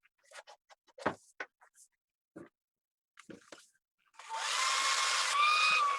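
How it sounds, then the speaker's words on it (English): After some scattered clicks and rustles, a hair dryer aimed at a napkin switches on and blows with a steady, loud whooshing hum, whining slightly near the end. "if I took a hair dryer to the napkin"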